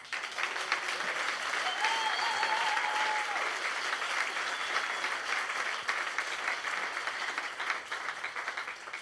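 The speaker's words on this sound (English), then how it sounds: "Can I have a big round of applause?" A room full of people at a First Nations leadership panel event claps steadily for several seconds, a dense, even wash of applause.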